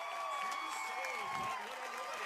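A crowd at a high school water polo game cheers and claps for the goalkeeper's saves, a faint, steady wash of applause and voices heard from a distance.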